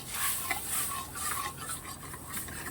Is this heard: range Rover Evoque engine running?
no